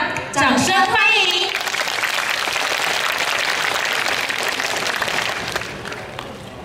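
A large audience applauds for an Indonesian dance performance at a school event, the dense clapping swelling right after a short spoken phrase and holding steady before tapering off slightly at the end.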